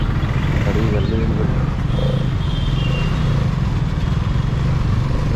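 A Hero Karizma XMR 210 motorcycle's 210cc engine rumbles steadily and close throughout, a constant low drone with voices talking over it.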